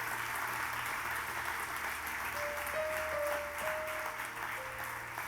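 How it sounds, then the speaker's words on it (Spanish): A church congregation applauding, a faint, steady wash of clapping heard from a distance, with a thin sustained tone entering partway through. "Den un aplauso a esta gente que vinieron aquí a trabajar ayer."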